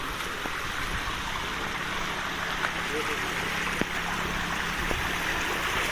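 Steady rushing water from a nearby stream crossing at Vellimalai in the Kalvarayan Hills, India, fills the scene, with faint muffled voices in the background.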